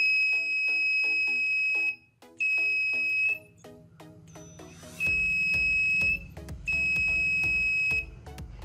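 A laser and LDR fence alarm built around a 5V laser diode sounds its buzzer: loud, shrill electronic beeps in repeated bursts with short gaps, alone with no talk.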